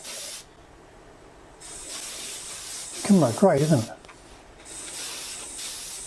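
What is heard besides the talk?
spraying finish onto wood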